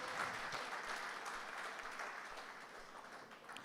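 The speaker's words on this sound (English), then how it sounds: "Give your Acting Commissioner a round of applause." An audience at the Jamaica Police Federation annual joint central conference applauds the acting commissioner, a faint, steady wash of many hands clapping heard from a distance.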